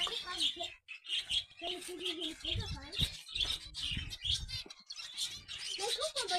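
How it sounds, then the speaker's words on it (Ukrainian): Birds sing and chirp in an autumn botanical garden near water, their bright twittering running steadily through the clip beneath a layer of talk and background sound. "Вода, природа і спів пташок."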